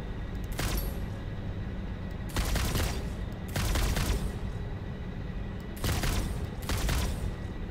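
Bursts of homing ammo fired from a gun in the Satisfactory video game, four or five loud, dense volleys of a second or so each with quiet gaps between them, no voices.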